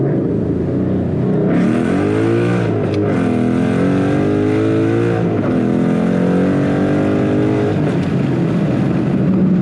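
A 500 hp naturally aspirated Mustang 5.0 engine revs loudly and continuously, its pitch climbing and dipping through several surges, close and steady throughout, heard with the windows down.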